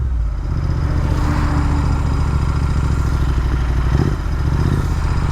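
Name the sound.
Royal Enfield Interceptor 650 Red Rooster exhaust revving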